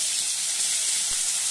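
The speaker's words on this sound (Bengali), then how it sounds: "বাটা মাছ ছেড়ে দিয়েছি" Bata fish just dropped into hot oil in a wok, a loud, even, close hiss of frying that holds steady throughout.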